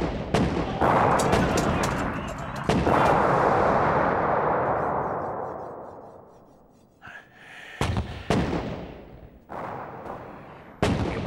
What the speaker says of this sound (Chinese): 给我炸，给我拼命的炸！